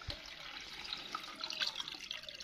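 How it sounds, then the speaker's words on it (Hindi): Water pours into an old engine-oil can to be mixed with diesel, making a steady gurgling trickle with small splashes. The sound is close but quiet, and no one speaks. "पानी"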